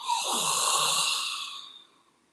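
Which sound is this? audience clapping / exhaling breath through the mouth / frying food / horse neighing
exhaling breath through the mouth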